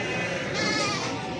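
Goats bleat at a livestock market in Barda, giving a short, close, wavering cry over a busy crowd background.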